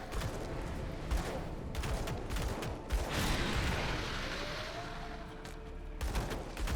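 Heat Fire Evocator weapon firing in the video game Grim Dawn, a rapid crackling burst of fiery shots with rumbling bursts and a rising whine, loud and continuous with no talk.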